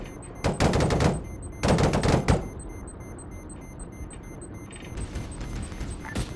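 Two loud close bursts of rapid automatic gunfire in the game Arma 3, each about a second long, followed by quieter background rumble and faint distant shots.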